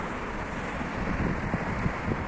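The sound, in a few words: wind blowing into microphone on a cold day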